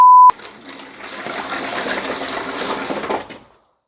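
Five litres of water pour into a marine aquarium container in a steady gushing splash lasting about three seconds, close and moderately loud, after a brief electronic tone at the start.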